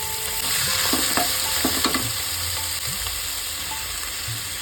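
Chopped banana stem and whole tempering spices stir-frying in hot oil for thor chhechki: a dense, steady sizzle with a few close clacks of a spatula against the pan early on.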